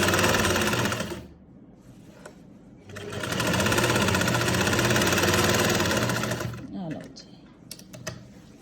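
A sewing machine stitches the side seam of a kurti, running in two steady, rapid mechanical bursts with a short pause between them and close handling noises at the end.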